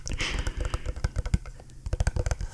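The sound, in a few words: typing on a computer keyboard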